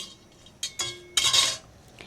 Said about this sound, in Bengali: প্রথমে একটু আমি দারচিনি এলাচ লবঙ্গ আর জিরে এগুলো কড়াইতে একটু ভালো করে নেড়ে নিয়ে একটু গুঁড়ো করে নিচ্ছি